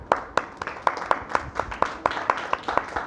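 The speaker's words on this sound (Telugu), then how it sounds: "వాళ్ళకి చప్పట్లు కొట్టండి." Audience applause at a talk on Bhagavata stories, a dozen or so sharp, evenly spaced claps, close and moderately loud, as if a few hands clap in rhythm rather than a broad crowd.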